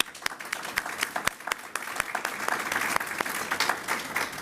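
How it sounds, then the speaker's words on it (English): Audience applause at a health system and university alliance event, a crowd clapping with distinct individual claps standing out from a steady wash, moderately loud and continuous. "Let's please give them a round of applause."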